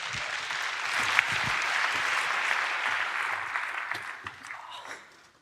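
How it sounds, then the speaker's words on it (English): Audience applause for a speaker taking the stage at an SEO and server-side web conference, a steady roomful of clapping that swells briefly and then tapers off toward the end. "If we could give him a big round of applause"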